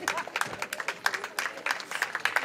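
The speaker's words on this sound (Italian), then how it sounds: "Un applauso" An audience at the Premio Maria Monteduro 2020 poetry prize ceremony gives a brief burst of brisk, uneven clapping for a finalist.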